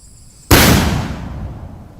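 A sudden loud blast as police in Jharkhand detonate recovered Maoist can bombs, the single boom trailing into a long fading rumble.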